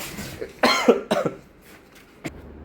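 A few short, close coughs in a quick cluster, followed by a single sharper cough after a brief pause, with quiet background hum.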